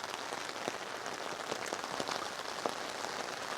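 Steady rain patters on a taut campsite canopy overhead, a soft continuous hiss with scattered heavier drips, no voices.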